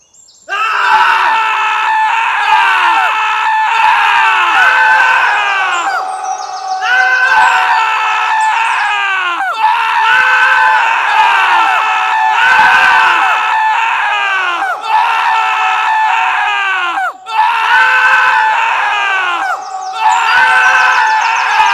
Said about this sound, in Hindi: ये क्या हो रहा है और इतने सारे लोग क्यों चिल्ला रहे हैं?